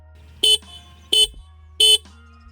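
A Suzuki Gixxer SF 150 motorcycle horn sounds three short, evenly spaced beeps, loud and close, with quiet gaps in between.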